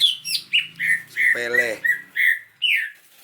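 A caged songbird handled while a ring is fitted, giving a series of sharp chirps and squawks in short bursts, close and loud, with a brief word spoken in the middle.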